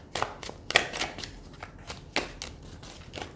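Tarot cards shuffled and drawn by hand, a quick run of crisp riffling flicks and slaps up close, irregular and fairly soft, no voices.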